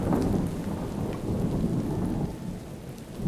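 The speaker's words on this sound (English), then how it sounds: "Whoa, it's a thunderstorm." A Minecraft video game thunderstorm: dense, steady rainfall with deep rolling thunder that swells at the start and again midway, continuous and close with no voices.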